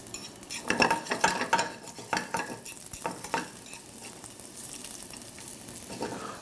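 Squid searing in a hot pan, a steady sizzle with stirring scrapes and utensil clinks, busiest at first and then settling into a continuous fry, close and with no talk.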